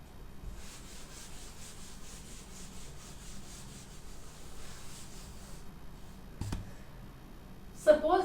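A teacher rubbing out a drawing on a board, a soft, steady scrubbing sound lasting several seconds, followed by a brief knock and the start of a voice.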